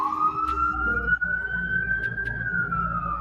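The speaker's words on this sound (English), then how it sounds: "Does anyone else hear sirens?" A siren wails steadily with a slow rising tone, close and fairly loud, while low rumbling noise runs underneath.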